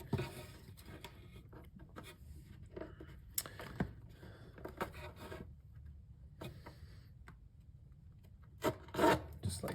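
Blade slicing through tolex covering on a Fender Super Reverb amp cabinet at the corner where the angled front meets the side, heard as short close scraping and rasping strokes with pauses, one louder rub near the end.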